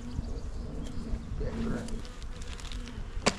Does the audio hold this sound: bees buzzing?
yes